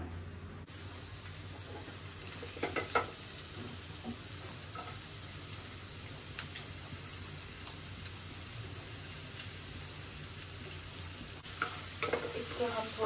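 Small garlic pieces dropped into about a tablespoon of hot oil: a steady, fairly quiet bubbling sizzle throughout, with brief bursts of spattering and stirring near the start and end, no talking.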